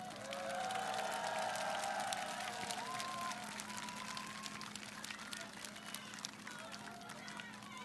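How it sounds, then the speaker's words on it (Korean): Outdoor political rally crowd in Chuncheon applauding and cheering, a broad sustained wash of clapping, fairly faint and distant, with voices mixed in. "우리 두 분도 한번 박수 한번."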